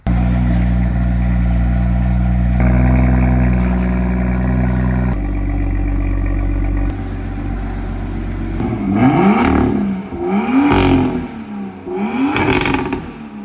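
A BMW M2's engine holds steady idle-like drones at a few levels, then revs sharply three times in rising and falling bursts, loud and close inside a tuning shop.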